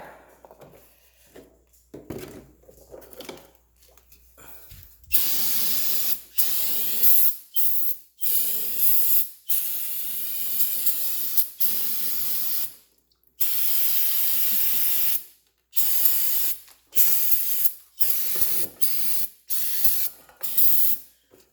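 An aerosol can of brake cleaner sprays in a series of sharp hissing bursts, some short and some held for a couple of seconds, close by, after a quieter start, while cleaning a furnace burner.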